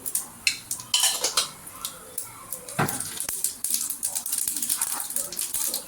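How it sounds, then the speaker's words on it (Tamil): Mustard seeds and urad dal splutter in hot sesame oil, making a rapid, irregular run of sharp crackles and pops close up, mixed with light metallic clinks from the pan. "கடுகு உளுந்து பொரியுது"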